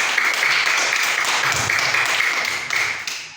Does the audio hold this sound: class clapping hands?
yes